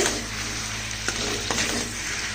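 Cauliflower stalk curry being stirred and turned in a hot pan, a steady sizzle with two distinct scraping strokes of the spoon partway through, no one speaking.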